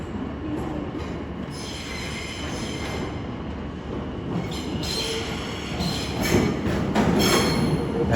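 London Overground Class 710 electric train, unit 710 109, arriving from Chingford at a London terminus, with a steady rolling rumble and rising wheel squeal and clatter as it pulls in close by.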